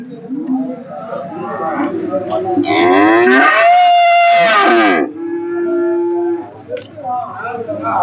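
Cows at Nainapuram cattle market moo loudly and repeatedly at close range, long drawn-out calls overlapping with a busy crowd murmur in the background.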